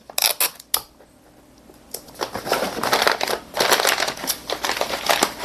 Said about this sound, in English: Then I'm going to fold the ends and tape the end down.